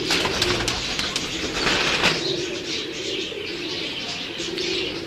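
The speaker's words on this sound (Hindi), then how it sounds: "ये उनके टैडी कबूतर आपको दिखा रहे हैं हम।" Teddy pigeons kept by a breeder in Kasur, Pakistan, cooing and fluttering in a loft, a dense, steady mix of coos, wing flaps and chirps filling the clip at moderate loudness.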